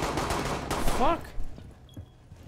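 Pistol shots in a tower-style video game, a dense burst of sharp gunfire in the first second or so, then quieter scattered shots and game noise.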